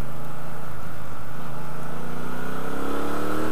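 A Triumph Bobber motorcycle engine rumbles loudly and continuously, its pitch gradually rising as it revs up, close and steady.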